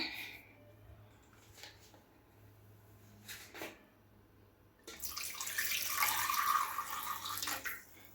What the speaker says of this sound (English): and then we add water.